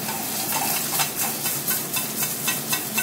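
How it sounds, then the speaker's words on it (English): A rack of wild boar sizzles and spits in an oiled pan over open fire, with steady frying hiss and rhythmic bursts as the pan is shaken and stirred, close and loud. "shake it around the pan and try to get a little bit of fire right in there"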